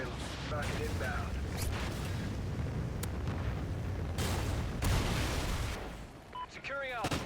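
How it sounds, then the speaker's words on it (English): Rocket strike explosions in Call of Duty: Ghosts thunder as repeated heavy booms over continuous battlefield rumble and gunfire, with bright impacts landing every second or so and voices barking callouts amid the din. "Trinity rocket available. Rocket inbound."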